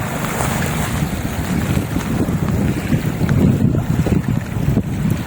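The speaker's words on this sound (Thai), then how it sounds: "ฟังคลื่นน้ำนะครับ" Wind-driven water waves lap and wash against the shore of the Huai Mai Teng reservoir in Chom Bueng, Ratchaburi, a continuous loud rush with strong wind buffeting the microphone and no voices.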